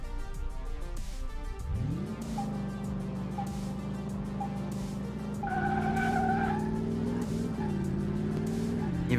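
A mid-engine car in Car Mechanic Simulator 2018 launches with a tire squeal, then its engine note rises steadily through acceleration, growing louder and higher toward the end.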